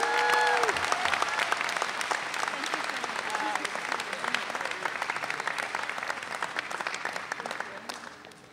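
At an undergraduate business school commencement, the crowd breaks into loud applause that starts strong, carries on for several seconds with scattered voices mixed in, then tapers off toward the end.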